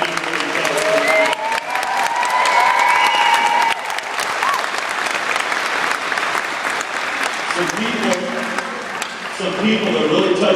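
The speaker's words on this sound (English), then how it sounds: "You should give yourselves all a big round of applause for what you do for each other." Loud, sustained applause from a large audience at an opening ceremony, dense clapping with some cheering and voices mixed in throughout.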